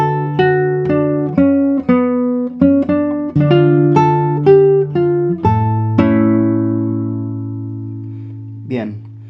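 Classical guitar plays a phrase of a tango: close, clear plucked melody notes over bass, ending on a long ringing chord and a small brush of the strings.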